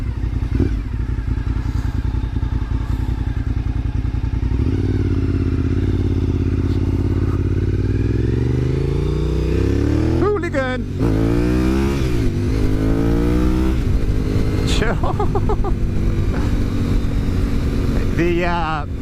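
A Honda VTR 1000 SP1 V-twin motorcycle idles with a loud, lumpy rumble, then revs repeatedly in rising and falling bursts, with someone talking over the engine.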